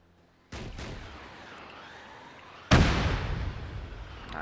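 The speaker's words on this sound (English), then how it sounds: "Rocket, rocket, rocket." A rocket launcher fires in a military video game with a sharp launch blast, followed about two seconds later by a louder explosion that rumbles and decays.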